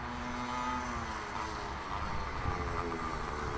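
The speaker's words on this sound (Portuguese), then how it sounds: "Tá vindo um carro." A car approaches and passes by on a road, its rolling engine and tire noise swelling gently and then holding steady, fairly faint, with no one speaking.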